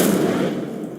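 Incendio fire spell cast in Hogwarts Legacy: a bright whooshing burst of flame that flares at once and then slowly fades, heard alone.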